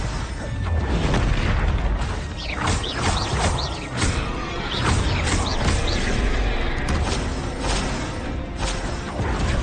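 Confringo fire spells burst repeatedly in Hogwarts Legacy combat, loud booming blasts and whooshing impacts stacked over a busy, continuous battle din.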